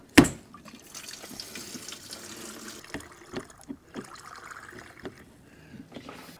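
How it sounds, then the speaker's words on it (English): Diesel fuel poured from a gallon container into the tank of a diesel heater, a steady liquid gurgle after a sharp opening knock, with scattered clunks and small splashes throughout. "we don't have any diesel fuel in here, so let's fill this up really quickly with a gallon"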